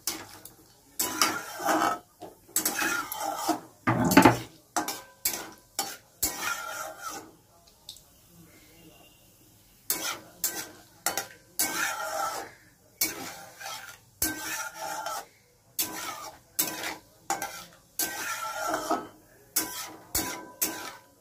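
Chicken with spices stirred in a frying pan, repeated scraping and clinking strokes of a utensil against the pan in bursts with pauses, over a faint sizzle.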